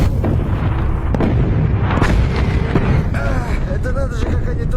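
A war film battle in which German forces fire on Soviet troops: dense, continuous gunfire and booming explosions fill the scene, with a voice speaking over the barrage.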